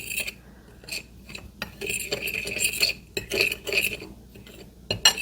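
Corn flour, breadcrumbs and salt being stirred together on a plate with a utensil, giving irregular scraping and light clinks of metal on the plate, close and fairly quiet, with no talking.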